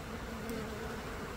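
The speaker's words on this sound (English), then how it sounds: "you can see them fanning on the front of my hive" Honeybees fanning at the entrance of a hive during a trap-out high in a tree, a faint, steady buzzing hum heard up close, brief and continuous with no voices.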